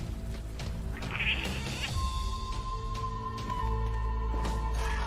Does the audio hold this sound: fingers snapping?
no